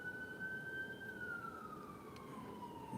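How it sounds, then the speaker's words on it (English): A faint, distant siren holds a steady wail and then slowly drops in pitch over a low rumble of traffic. "listen to the sirens"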